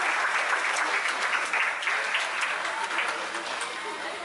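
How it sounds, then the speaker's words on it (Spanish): The audience at a dolphin and sea lion show in Cancun bursts into lively, sustained applause, many hands clapping together throughout. "Un aplauso por favor para él."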